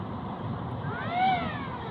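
A river dredging machine's engine works on a waterway, a steady drone with a whining tone that rises and falls once in pitch like a speedboat revving.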